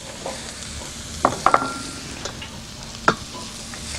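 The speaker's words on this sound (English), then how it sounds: "Just give them a stir to coat them with the oil." Finely sliced spring onions sizzle in oil in a frying pan while being stirred, a steady soft hiss broken by a few sharp clicks of the utensil against the pan.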